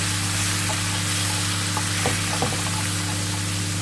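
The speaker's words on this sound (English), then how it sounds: "We're just going to sizzle that in." Steady, dense sizzling of ginger and garlic paste frying in a hot pan, with a faint clink or stir now and then against a low hum.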